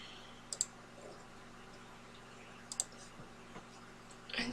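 Computer mouse clicks sound in two quick pairs, faint and close in a quiet room, followed by a softer single tick near the end.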